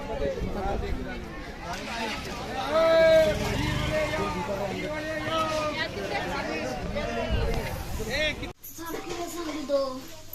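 Bustling crowd noise at the Sunday market in Daund, a dense wash of overlapping voices and passing traffic nearby, with someone talking close over the hubbub.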